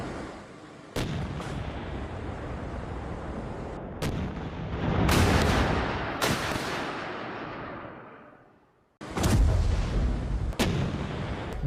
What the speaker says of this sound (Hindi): माक्रीविका में अटैक के विजुअल्स है